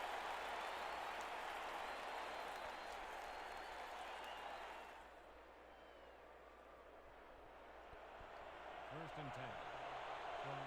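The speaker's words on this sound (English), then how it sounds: "Crowd firing up for their defense" A stadium crowd at a Birmingham at Madison football game roars for its defense in a continuous loud wash that dips briefly midway and then swells again, with a short voice near the end.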